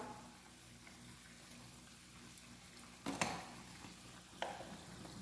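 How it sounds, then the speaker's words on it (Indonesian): A spoon stirs mie ayam noodle seasoning mixed with a teaspoon of sugar and chicken bouillon flavoring: faint, close scraping under low background hiss, with a couple of sharper clinks against the bowl near the end. "Kita aduk."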